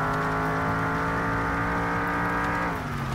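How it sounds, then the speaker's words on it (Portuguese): A car engine revs high in the game Mon Bazou. A loud, steady, buzzing engine drone holds at high revs and then eases off slightly near the end, with no voices over it. "Até quanto que esse motor gira? Vamos ver."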